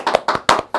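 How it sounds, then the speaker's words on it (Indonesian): Talk-show hosts clap their hands together to open an Indonesian football chat program: four quick, crisp, close claps in a short, even rhythm, with no speech. "Nah, sekarang kita selalu pakai tepuk tangan"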